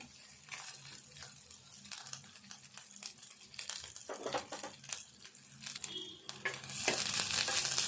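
Dried shrimp fry with onions in a pan, a soft crackling sizzle punctuated by repeated scraping and clattering stirring strokes that grow louder and busier near the end.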